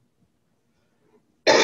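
Near silence, then a single short, loud throat-clearing cough bursts out at the very end.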